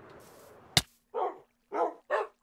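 Dogs barking in the Minecraft video game: three short, clipped barks in quick succession after a sharp click, clean and close.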